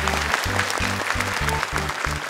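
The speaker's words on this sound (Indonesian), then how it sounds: "Tepuk tangan dong sekali lagi untuk Ica Bangkalan." Studio audience applause on an Indonesian televised Quran memorization competition graduation show, a steady broadband patter running throughout under a pulsing musical backing with a regular beat.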